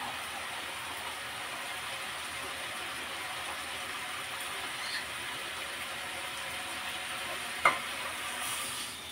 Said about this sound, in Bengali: একটু নাড়াচাড়া করে দিচ্ছি যাতে তলায় লেগে না যায়